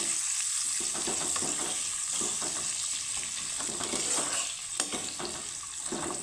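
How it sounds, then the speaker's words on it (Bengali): Chopped onions fry in a pan with a steady, close hiss and crackle. Soft stirring scrapes come through at irregular moments, and nobody speaks. "পেঁয়াজটাকে আমি একটু ভেজে নেব"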